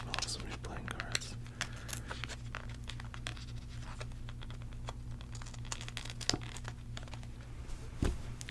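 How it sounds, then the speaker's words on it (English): Crisp crinkling and tearing of the thin plastic seal on a new deck of playing cards, close and soft, in scattered bursts over a steady low hum, with a sharper rip near the end. "I'm going to break the seal here real quick."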